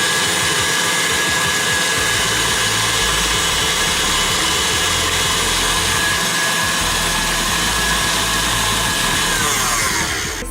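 A KitchenAid hand mixer beating peanut butter cookie dough hums with a loud, steady motor whine that holds without a break for about ten seconds, then fades slightly at the end.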